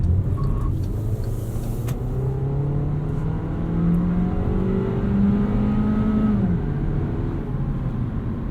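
A 1.4-liter turbocharged engine in a 2016 Volkswagen Jetta pulls steadily under acceleration, its drone rising in pitch with a continuous, close-up interior rumble and no talking.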